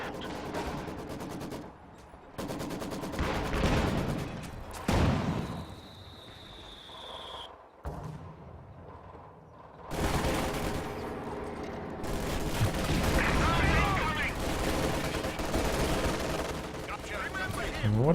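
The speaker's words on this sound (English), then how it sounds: "And what is that MG firing at there?" Machine gun fire in Company of Heroes 2 during a 3v3 match on Pavlov's House, loud bursts and battlefield explosions broken by sudden quiet gaps, with commentators talking over parts of it.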